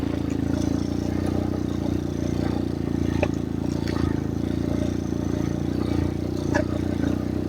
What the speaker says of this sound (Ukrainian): подорож на мотоциклі в морозі на гриби.